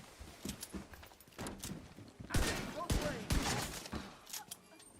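Gunfire in The Division 2, a few sharp broadband shots spread across the moment, the loudest bunched in the middle, mixed with other game noise and a voice talking.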